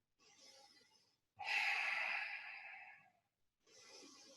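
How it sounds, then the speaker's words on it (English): Slow breathing through the nose during a yoga stretch: a soft inhale, a longer, louder exhale of about a second and a half, then another quiet breath, close and alone. "So breathing through your nose."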